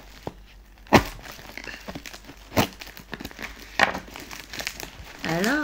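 Hands tear open a tightly wrapped parcel without scissors, giving scattered crinkles, rips and sharp cracks of packaging at close range, with someone talking intermittently.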